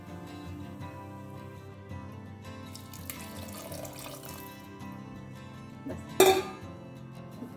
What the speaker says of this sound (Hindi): आनी थोडें हांव उदीक घालता।